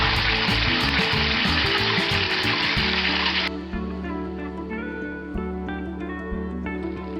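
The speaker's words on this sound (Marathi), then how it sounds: "छान एक तेल सुटूस तोपर्यंत मसाला परतून घ्यायचा" Onion and ground masala fry in oil in a pan for an egg dish, a loud, steady broadband sizzle that softens partway through to a quieter crackle with faint clinks and scrapes, no voices.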